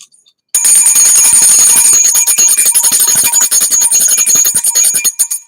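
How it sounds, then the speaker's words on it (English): A single bell rings out after a brief pause, loud and bright with a rapid, shimmering repeated strike that sustains for several seconds before trailing off. "This is not a good bell though."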